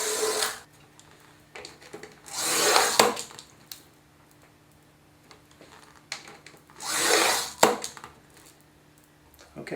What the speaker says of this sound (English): I use a conventional glass cutter and a ruler and a triangle, and set it all up on my table and start cutting 1/4-inch strips